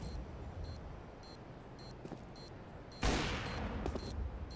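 Rapid bursts of P90 submachine gun fire in the video game CS:GO during a pistol round, several short clipped volleys spaced through the clip with a louder, denser burst near the end, no talk over them.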